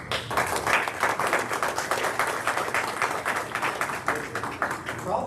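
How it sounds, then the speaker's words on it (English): Applause at a commission meeting, a dense steady patter of many hands clapping together for about five seconds with no break. "Probably their first applause they ever get."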